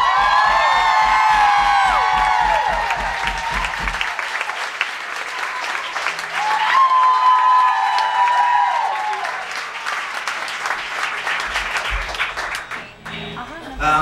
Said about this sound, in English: Let's make some noise for Mr. Tony Lucca